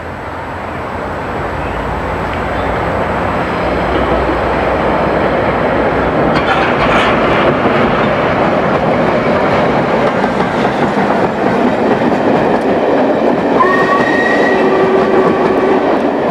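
A Black 5 steam locomotive, number 44932, rumbles past close by with its train, a steady heavy roar with rhythmic clatter of wheels and a brief high squeal near the end.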